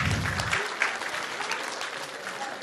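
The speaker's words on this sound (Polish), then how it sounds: "Brawa dla dzieciaków." A crowd in the Polish Sejm on Children's Day warmly applauds children from Ukraine, a loud, continuous, close wash of many clapping hands with a brief low voice at the start.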